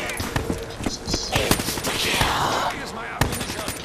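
Rapid gunfire in a zombies video game, bursts of automatic shots and sharp single cracks layered over busy game sound effects, loud and continuous throughout.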